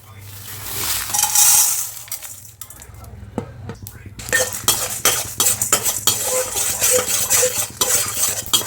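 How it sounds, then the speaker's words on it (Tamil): Ingredients for a mint dish being dry roasted in a pan and stirred steadily, with rhythmic metal scraping and clinking of a spoon against the pan, loud and close throughout. "இது எல்லாத்தையுமே ட்ரையாக வறுத்து எடுத்துக்கலாங்க."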